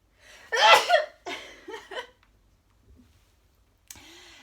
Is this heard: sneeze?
yes